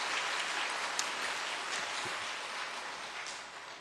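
A church congregation applauds a guest pastor from Myanmar: dense, steady clapping from many hands that fills the room and tapers slightly toward the end.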